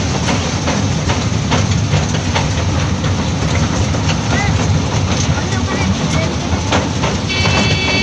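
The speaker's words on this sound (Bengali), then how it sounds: "ট্রেনে চলছে টয় ট্রেন" A toy train running through the Howrah rail museum in Kolkata, giving a constant loud rumble with faint rhythmic clacking throughout and a thin high whine toward the end.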